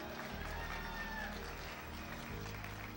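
A church congregation clapping and shouting during a sermon, a dense continuous wash of hand claps and raised voices at moderate loudness, sustained throughout without a break.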